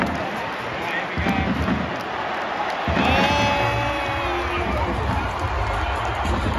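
A rugby league crowd at an Eels vs Panthers NRL match roars in waves, swelling sharply twice, with whistle-like tones and voices mixed into the stadium din.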